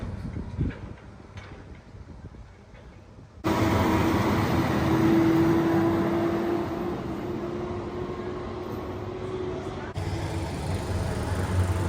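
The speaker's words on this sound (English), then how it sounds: "this truck goes back and forth, back and forth" A loud work truck rumbles past on a mountain road, a sudden heavy roar that holds steady with a droning whine for several seconds before easing slightly.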